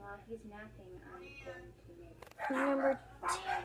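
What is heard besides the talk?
dogs barking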